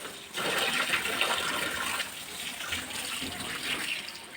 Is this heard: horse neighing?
no